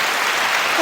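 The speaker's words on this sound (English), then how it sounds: "Give him an applause." Short burst of steady applause on a comedy podcast, dense clapping that fills the whole moment at a constant level with no voices over it.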